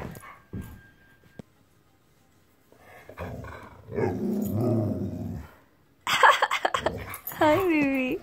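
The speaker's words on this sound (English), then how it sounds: "Akita's also absolutely love to talk, and we've encouraged her to talk" An Akita dog makes growly, whimpering talking vocalizations rather than barks, in two bursts with a quiet gap between them. A high, sliding whine-like sound follows near the end.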